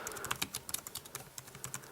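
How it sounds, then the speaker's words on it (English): A Logitech K811 Bluetooth keyboard being typed on gives a quick run of light, close key clicks in an uneven rhythm, with no voices. "So here we go, start typing."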